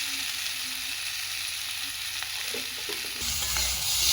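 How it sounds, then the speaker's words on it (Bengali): Potatoes and chickpeas sautéing in a pan with jaggery, a soft steady sizzle with a few stirring clinks and scrapes, quiet and close, growing slightly louder near the end. "আলু আর বুট অল্প একটুখানি কষাই করে নেবো"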